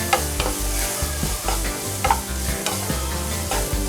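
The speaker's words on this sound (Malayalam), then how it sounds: "ഈ ഉള്ളി സവാള ഒന്ന് ബ്രൗൺ ഷെയ്ഡ് ആവുന്ന വരെ നന്നായിട്ടൊന്ന് വഴറ്റുക" Onions sautéing in a pan for a Kerala-style green peas masala, with a steady close sizzle and repeated clanks of a spoon stirring against the pan in an uneven rhythm.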